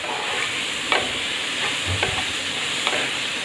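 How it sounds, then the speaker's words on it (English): Beans and onions sautéing in a pan for palak rice, a steady hiss of frying with a few soft scraping stirs and light knocks, close and with no speech. "I wanted the beans to be a little more sauteed than the onions"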